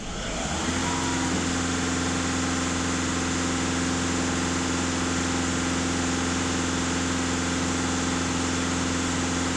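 A Seat Altea 1.6 TDI diesel engine held at raised revs during an emissions-system clean, giving a steady, loud, close drone with a constant low hum and no talk.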